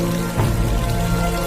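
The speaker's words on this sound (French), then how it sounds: "Je te signale qu'il pleut." Steady rain falls outside a house, a continuous even patter with a low rumbling undertone and a slight swell partway through, no voices present.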